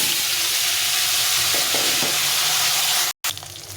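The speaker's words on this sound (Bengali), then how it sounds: "এখন কড়ার মধ্যে আর কিছুটা তেল দিয়ে আমি বেগুনগুলো প্রথমে ভেজে নেব।" Brinjal pieces coated in salt and turmeric sizzle in oil in a kadai, a steady, dense frying hiss with a few soft stirring scrapes, close and continuous.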